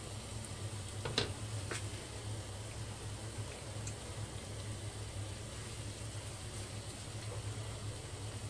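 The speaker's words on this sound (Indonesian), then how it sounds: "sekarang kita goreng ayamnya ya." Chicken pieces for ayam goreng cingkrang fry in hot oil with a steady, quiet sizzle and occasional small pops, no talking.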